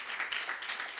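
A church congregation claps together in steady, dense applause at moderate distance during a sermon, filling the whole short moment without voices on top.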